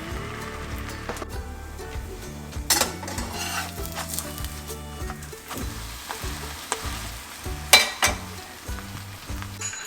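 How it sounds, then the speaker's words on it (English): Food cooks in melted butter in a skillet over medium heat, with a gentle ongoing sizzle punctuated by clinks and scrapes of a utensil against the pan, close and moderately loud. "melt about a half a tablespoon of butter in a skillet over medium heat. And we're just gonna cook this for a few minutes on each side"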